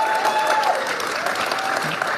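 A conference audience breaks into steady, dense applause, loud and close, the clapping continuous throughout with a faint crowd murmur beneath.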